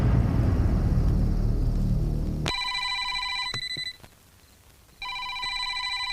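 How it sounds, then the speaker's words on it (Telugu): A telephone bell rings indoors with a bright, metallic trill that cuts in after a fading low rumble, sounds once, pauses briefly, then rings again, clear and close. "ఆ ఫోన్ చూడు నాన్న."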